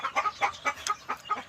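Backyard chickens cluck noisily and repeatedly in quick, uneven bursts, close by, with no talking.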